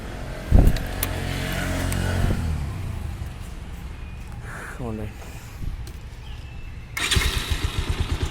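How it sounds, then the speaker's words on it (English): A Bajaj Avenger motorcycle with a jerking, misfiring carburettor fires up with a sharp burst, settles into a rough idle, then revs in quick pulsing bursts near the end, with a voice faintly present. "So I'll just start the bike and show you how the rev goes."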